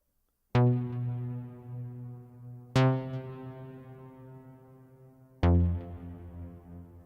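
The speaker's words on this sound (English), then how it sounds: "You hear that reverb?" Three struck tones processed through a reverb plugin in Studio One 3, each sharp attack followed by a long, lush reverberant tail that rings out slowly; no voices, spacious and fairly loud.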